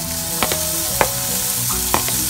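Bacon sizzles steadily in rapeseed oil in a pan, a dense crackling hiss broken by a few sharp clinks of stirring.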